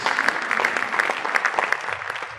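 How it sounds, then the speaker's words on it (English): Applause from the audience at a university inaugural lecture in Uyo, steady and dense with brief louder peaks, filling the hall for a couple of seconds. "Another round of applause for the BBC academics"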